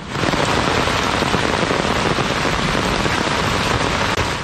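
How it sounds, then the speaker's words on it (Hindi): Heavy monsoon rain pours down on a city, producing a dense, steady hiss and patter of downpour throughout, loud and continuous with no voices. "शहर पर काली घटाएं छाईं और खूब जमकर बरसीं"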